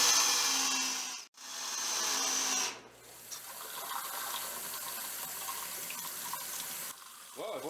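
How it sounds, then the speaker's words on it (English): Water runs steadily from a tap into a newly installed utility sink and down its drain, a continuous broadband rush with two brief breaks early on, flowing alone without talk. "I've let the water run for a few minutes here at least, and it doesn't look like it's backing up."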